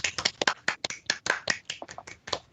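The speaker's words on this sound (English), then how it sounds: "Just to applaud." Applause at a transportation advisory committee meeting: a short burst of hand claps, fairly close and moderately loud, with uneven sharp strikes over about two and a half seconds and no talking.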